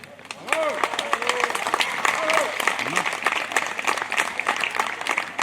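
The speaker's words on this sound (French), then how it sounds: "On peut applaudir, hein." An audience claps at an outdoor carriage-driving prize ceremony, a dense, continuous patter of hands, while voices chatter and call out over it.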